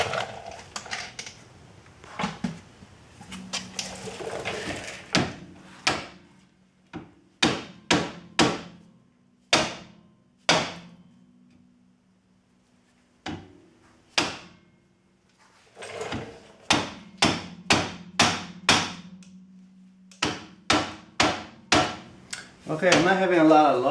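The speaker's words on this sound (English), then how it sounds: "I'm not having a lot of luck with hitting it with a hammer trying to separate it from the backing plate" A hammer strikes the rusted rear wheel hub of a 2001 Chevy Cavalier with sharp metallic blows, some single and some in quick runs, separated by pauses, with a few words spoken between hits.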